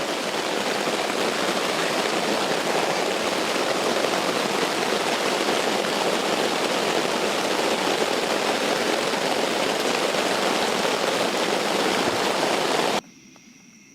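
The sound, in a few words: rain falling outdoors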